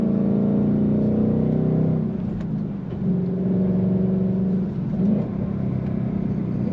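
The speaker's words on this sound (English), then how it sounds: "The V8 engine, let's just listen to it a little bit more." A 2024 Ford Mustang GT V8 engine runs up through loud, throaty revs, dips briefly, then climbs again. The engine is close and continuous, with no talking.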